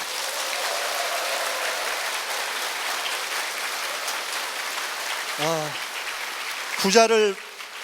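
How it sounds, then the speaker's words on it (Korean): A lecture audience applauds continuously in a dense patter of clapping, with a couple of brief cheers or shouts rising near the end. "진심으로 큰 박수 한번 보내드리겠습니다"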